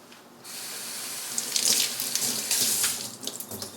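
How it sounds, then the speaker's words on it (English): Tap water running over a sweet red pepper in a kitchen sink to rinse out the seeds: a steady splashing stream for about three seconds, close and fairly loud, alone. "Cleaning it out, and I'll rinse the seeds out."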